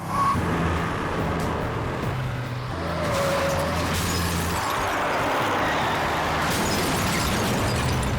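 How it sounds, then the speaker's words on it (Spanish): A car approaches a house around midnight, its engine a steady, fairly close rumble that swells and continues without pause, with a faint tire-like hiss over the road noise. "oyó el sonido de un auto que se dirigía hacia su casa"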